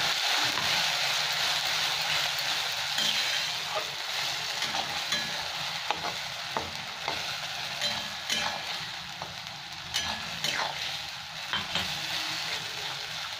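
Spice paste for a young jackfruit curry frying over low heat in a pan, a dense steady sizzle broken by repeated scraping and tapping of a spatula, close and continuous.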